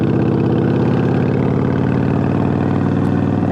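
A Harley-Davidson Sportster engine with its standard exhaust baffles removed runs steadily at idle, a loud, close, even low rumble with no talking.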